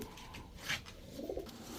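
A male Pakistani Najra Kaldam pigeon gives soft, low cooing in a short, faint burst amid quiet background noise.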